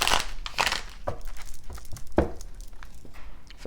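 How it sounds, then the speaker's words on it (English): Tarot cards are shuffled by hand in a series of soft, quick riffling and crinkling bursts, close and quiet, with no talk. "Let's get one more shuffle."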